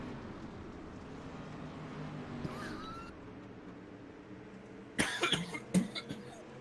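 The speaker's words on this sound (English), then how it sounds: "I'm gonna start coughing again." A few sharp coughs close by near the end, following a quiet stretch of low background hum, at Williams Grove Speedway.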